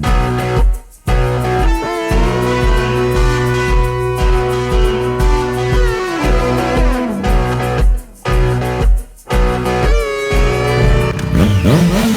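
Superbikes, a Triumph Daytona, Kawasaki Z800 and Yamaha R3 including a customised R3, running loudly nearby with a sustained throbbing drone, rising and falling with revs and a few brief gaps.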